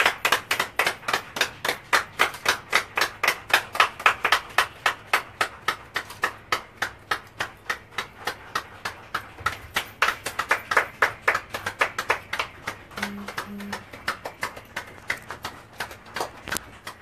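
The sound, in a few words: a minute of applause as a tribute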